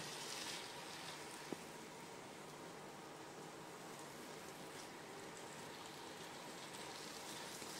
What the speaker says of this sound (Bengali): এবার চালটাকেও মশলার সাথে ভালো করে ভেজে নেব।